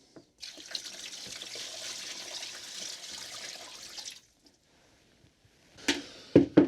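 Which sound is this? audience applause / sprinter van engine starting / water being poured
water being poured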